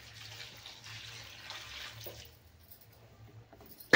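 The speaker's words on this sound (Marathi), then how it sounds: "तर सर्वात आधी आपल्याला घ्यायचा आहे पालक धुवून।" Spinach leaves are washed under running tap water, making a steady close splash and rush for about two seconds before it fades to quiet, followed by a sharp knock at the end.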